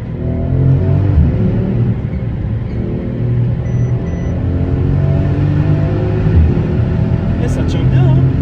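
A Mercedes GLC with the Brabus 600 tune accelerating hard from around 50 to 80 km/h, a loud, sustained low engine roar with rising tones heard from inside the cabin.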